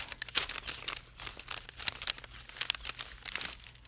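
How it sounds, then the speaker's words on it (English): Pillow fabric and lining are cut out, giving a close, quiet run of crisp snips and crinkling rustles in irregular bursts. "And we'll just cut this out."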